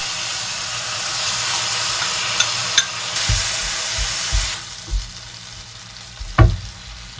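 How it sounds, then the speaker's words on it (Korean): Sausage and kimchi sauce stir-fry sizzling steadily in a pan, a close, continuous frying hiss with several soft knocks and scrapes of stirring scattered throughout. "아까 만들어 두었던 김치 소스를 넣어주시고 잘 볶아주세요."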